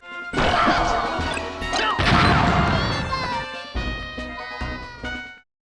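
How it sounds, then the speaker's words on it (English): A loud, crunchy bomb explosion in the original Super Smash Bros, a heavy blast followed by a second crash and rumbling debris that trails off. "It creates this intense explosive sound and just sends the player flying."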